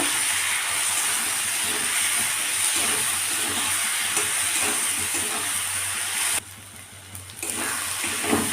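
Ginger-garlic paste sautéing in a pan for a mushroom dish, a steady close hiss of frying with faint stirring scrapes, briefly dropping quieter near the end before the sizzle returns.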